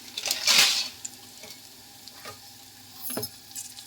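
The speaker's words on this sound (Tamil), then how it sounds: "வெங்காயம் வதங்கி கொண்டிருக்கு, தக்காளி பழம் வதங்கி கொண்டிருக்கு" Onions and tomatoes frying in a pan, a close crackling sizzle with bursts of loud spitting and several quick spatula scrapes and taps against the pan.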